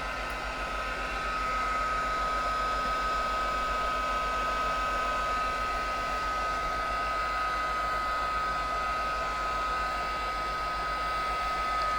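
A hair dryer blows on wet paint on a mixed-media art journal page, giving a loud, steady whir and rush of air that continues unbroken throughout.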